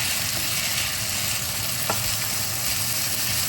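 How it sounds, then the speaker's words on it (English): Noodles and ingredients are mixed in a frying pan for a Dungeness crab family recipe, producing a loud, steady sizzle throughout with a single faint clink near the middle. "I'm just going to add in all the ingredients and mix"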